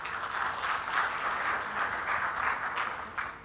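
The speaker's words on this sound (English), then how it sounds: "Round of applause for these guys." Steady applause from a seated audience at an AdWords session, a fairly soft, even wash of clapping that swells slightly at times and runs the whole length without speech.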